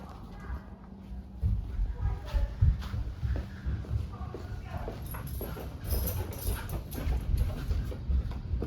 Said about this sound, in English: Get the dogs down here.